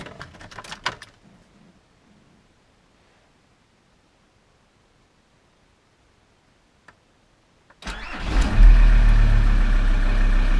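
A diesel engine, just back together after an injection-pump drive belt replacement and injector carbon cleaning, starts near the end after long near-silence with a few faint ticks, then idles loudly and close with slightly wavering revs.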